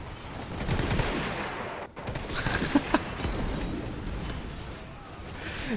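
Rifle fire traded between troops in the video game Total War WW1, a steady scattered crackle of distant shots with a couple of louder nearer reports, spread under a continuous battle din.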